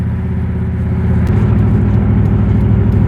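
A pickup truck engine roars loud and close, its low rumble shifting and climbing in pitch as it pulls away hard.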